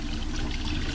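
Water poured into a pot of homemade vinegar-and-sugar pickle brine for bread and butter pickles, a steady close splashing stream lasting the whole second with no talk.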